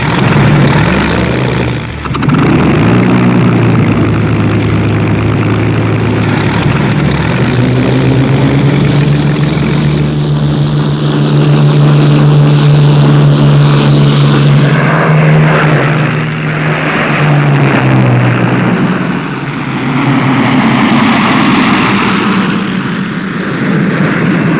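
Supermarine Spitfire propeller aircraft engines roar loudly and steadily, a deep droning engine note that swells and shifts in pitch as the fighters pass, with no talk over it.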